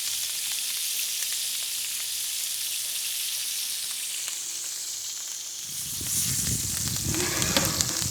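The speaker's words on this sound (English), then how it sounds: "All this fat is from the skin. It's rendering it down beautifully." Duck breast skin frying in a pan as its fat renders out, a steady bright sizzle that swells louder and busier near the end, with no talking.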